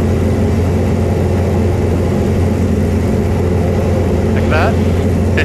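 A light aircraft's piston engine drones steadily in the cockpit with the fuel mixture leaned, giving a loud, continuous low hum with slight roughness, briefly overlaid by a faint voice.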